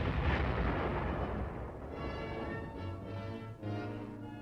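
M52 105-millimeter self-propelled howitzer firing directly, a single heavy blast at the start followed by a long rumbling decay with engine drone underneath.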